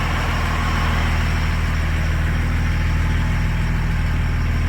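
A 3rd-generation Cummins diesel pickup engine idles steadily and up close, with a constant low rumble, a loud rattling clatter throughout, and no talking.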